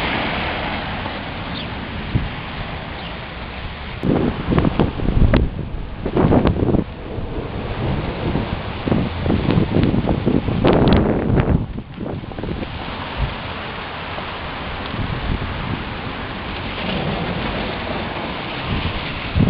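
A hailstorm with quarter-sized stones in Bozeman, Montana, rushes with wind buffeting the microphone and steady rain, with denser bursts of pelting in the middle before easing back to a constant roar.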